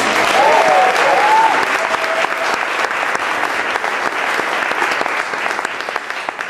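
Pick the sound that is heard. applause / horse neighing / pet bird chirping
applause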